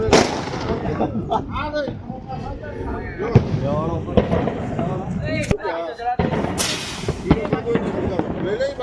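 Firecrackers from two full sacks go off outdoors in a village, with loud, sharp, irregular bangs scattered through the stretch while people shout and talk excitedly nearby.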